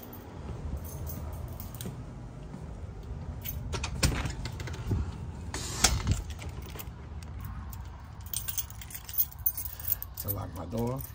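Keys jingle and clink in short bursts, close and fairly quiet, with soft handling noises and brief movement sounds between them.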